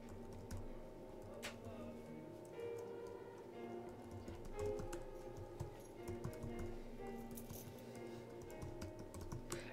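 Keys clatter steadily on a computer keyboard as an email address is entered, a quiet, close run of uneven taps with faint background hum.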